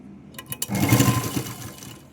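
A sewing machine stitches a folded hem on a silk skirt, a tailor's petticoat piece, with a few quick clicks followed by a steady close running whir lasting about two seconds.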